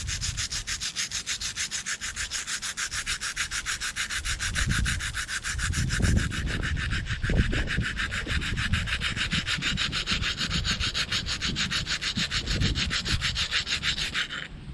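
A blade for an Inuit knife being ground by hand, giving a continuous rasping scrape with fast, even strokes, close and fairly loud, and no talk.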